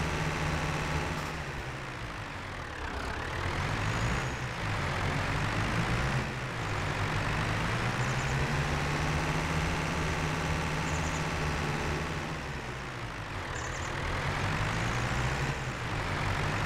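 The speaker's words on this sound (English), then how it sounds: "This is a noisy tractor." A heavy video game tractor engine in Farming Simulator 22 drones steadily throughout, rising and falling slightly in pitch as it labors, a continuous low rumble with no talking.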